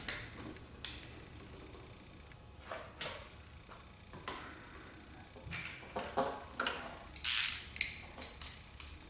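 Ratchet wrench working on a distributor bolt during a points-to-HEI distributor swap, a series of quiet clicking and metallic ticks in irregular bursts, with a sharper clatter near the end.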